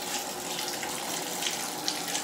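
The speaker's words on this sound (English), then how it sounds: "You gotta pull it down like that for the shower to come on." Shower water running steadily from the showerhead in a home bathroom, a continuous broadband hiss of spray and splashing, close and even throughout with no talking.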